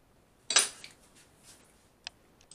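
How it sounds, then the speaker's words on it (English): Coleslaw with bacon pieces and gherkin mixed in a bowl: a sharp burst of utensil clatter against the bowl, then a few light, sparse clicks and taps, close and quiet. "I've put the bacon in with the coleslaw and the gherkin, give it a good mix."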